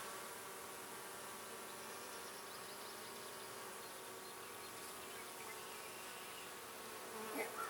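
Honeybees buzzing around an open hive during an inspection, a steady, faint, even drone with no talk, a soft rustle or knock near the end.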